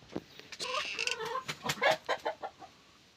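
Asil chickens, including a Belgian Asil and a pure Asil hen, cluck in a backyard farm pen, with a steady string of loud, close clucks that turn into rhythmic pulses near the end.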